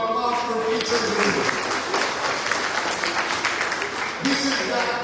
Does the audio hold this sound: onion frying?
no